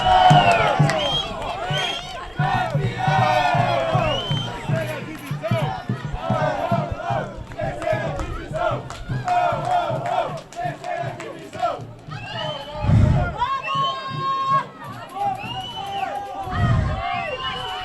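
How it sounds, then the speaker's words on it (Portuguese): Crowd at a youth under-12 football match between Guarani and Itatiba shouting and cheering excitedly, with children's voices, bursts of yelling and a couple of loud thumps. "a euforia da torcida"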